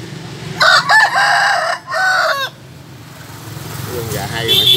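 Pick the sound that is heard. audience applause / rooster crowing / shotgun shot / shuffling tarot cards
rooster crowing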